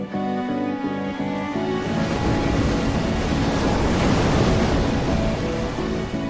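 Big ocean swell at Teahupoo, much larger than usual: a loud, continuous roar of breaking surf that swells steadily, heavy with buffeting wind noise on the microphone.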